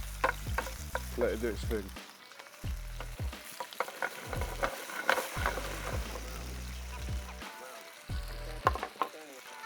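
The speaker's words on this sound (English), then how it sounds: "We're going to get a nice seal on this pork, just on both sides, nice and crispy." Pork sizzles and fries in a hot pan for Vietnamese pancake, a steady crackling hiss broken by repeated stirring and scraping knocks, with a brief remark spoken over it.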